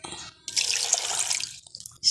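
Water pours from a container into a blender holding sliced carrots and apple for carrot juice, a short bright splashing stream of about one second, fairly close and alone.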